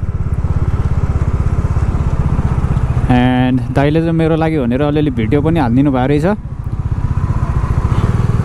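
A Bajaj Dominar 400 motorcycle engine runs smoothly and steadily throughout while being ridden, a constant close throb with someone talking over it in the middle.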